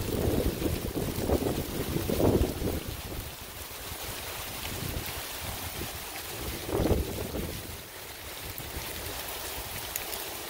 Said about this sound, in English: Comes another big gust of wind.